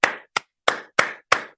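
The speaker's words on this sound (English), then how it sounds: "let's give it a round of applause, everybody, for everybody who participated" Hand claps come as six sharp, separate smacks spaced a few tenths of a second apart, close and clear with silence between them. They sound like a single person or a small group applauding at the close of a trading congress.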